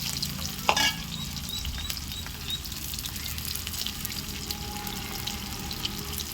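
Tomato frying in a chicken gravy over a wood-fired stove, with a steady close crackling sizzle throughout and a brief sharp clatter near the start.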